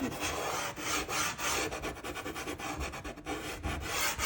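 Dry, raspy rubbing of dry pastel chalk across paper, continuous with short rhythmic strokes, close and fairly loud, no voices.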